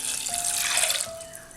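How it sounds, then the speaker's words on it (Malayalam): Water pours steadily into a pressure cooker holding soaked chickpeas for Kerala-style kadala curry, a close, continuous splashing stream that thins out toward the end, with no talking. "ഇനി ഇത് നമുക്ക് കുക്കറിലേക്ക് മാറ്റാം. ഇനി ഇതിലേക്ക് വെള്ളം ഒഴിച്ചു കൊടുക്കാം."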